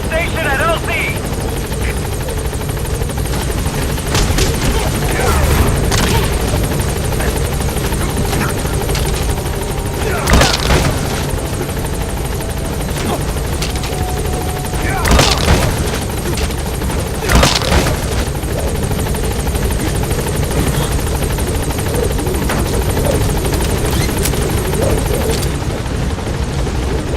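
B-Quad, the support helicopter in Metal Gear Solid V: The Phantom Pain, arriving at a landing zone: a steady, loud rotor drone throughout, with occasional heavy booms and voices over it.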